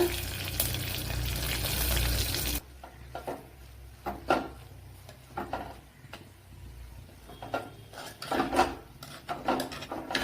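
Onion aviyal with mustard seeds and cut dried chilli stirred in a pan, a loud rasping burst at first, then irregular scraping spoon strokes against the pan over a quiet background.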